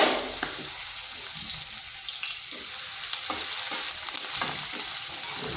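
Chopped onion and whole cumin seeds fry in hot oil with a continuous close sizzle, broken by light stirring knocks and small crackles, steady throughout with no speech.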